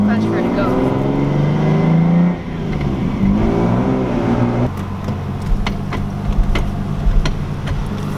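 Lexus IS300 with a swapped-in manual gearbox pulling away in low gear, engine droning and rising in pitch, then easing off and settling into a steady hum with road noise.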